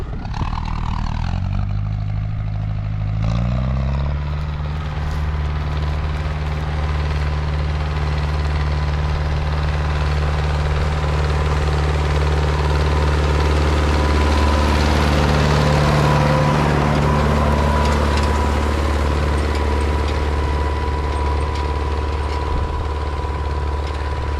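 An MTZ-80 diesel tractor engine idles steadily, then settles into a loud, constant rumble that runs on without a break, while disking a field before ploughing.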